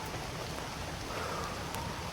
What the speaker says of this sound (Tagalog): Yan, lakas ng ulan,